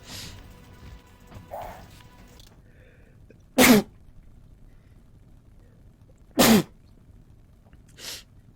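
Three sharp, loud sneezes burst out alone against a quiet game backdrop in Legacy of Kain: Soul Reaver, spaced a few seconds apart, with a fainter fourth sneeze near the end.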